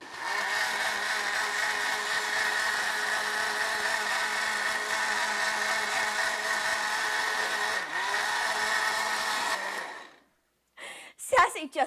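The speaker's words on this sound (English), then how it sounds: "To the blender" A blender whirs at a steady, high-pitched drone for about ten seconds with a brief dip partway through, then cuts off, followed by a few short clattering noises.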